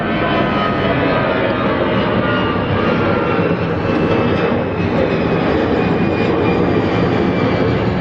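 An EasyJet jet airliner taking off at Gatwick Airport, a steady loud broadband engine roar that holds at constant strength through the whole stretch, with a faint whine riding on top and no talk.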